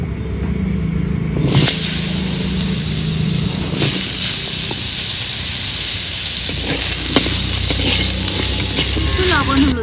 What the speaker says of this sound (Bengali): এটা ভেজে নেব।